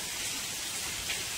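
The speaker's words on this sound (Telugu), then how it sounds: "పెద్ద చినుకు పడుతుంది." Large raindrops fall steadily in Telangana near Sagar Dam, a dense, even hiss of rain on surfaces with no voices.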